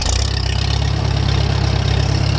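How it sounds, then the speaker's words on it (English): An antique tractor engine is given throttle as the clutch is let out fast, producing a loud, steady, close engine drone with no talking. "I'm going to show you what happens when you let that clutch out fast"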